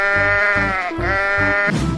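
A cartoon sheep bleats in a loud, close, wavering series of about four pulsing calls over two seconds, with no talking.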